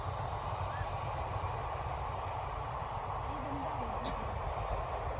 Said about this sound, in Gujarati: મસ્ત મજાની ટ્રેન આવી ગઈ છે 10 ડબ્બાની